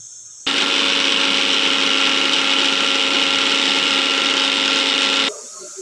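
Coconut pieces ground in a blender: a loud, steady, high whirring motor starts abruptly, runs evenly for about five seconds, then cuts off, with quiet room sound before and after.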